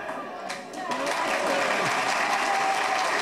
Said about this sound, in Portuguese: eu achei que as palmas eram para mim